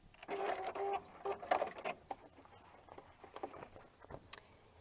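A sewing machine stitches a zigzag with black thread on black quilt fabric for a penguin appliqué, giving quick close bursts of mechanical rattling that stop and start several times, softer toward the end.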